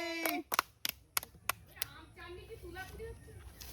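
Village boys clap during a spoon-and-cup challenge, a quick burst of five or six sharp, close hand claps early on that then thin out, with voices talking throughout.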